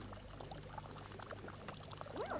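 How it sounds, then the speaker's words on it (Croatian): Water pours into the vessel of an ancient Greek water clock, a faint, steady trickling stream with small gurgles and a brief rising tone near the end, heard alone. "Ja vreme merim proticanjem vode."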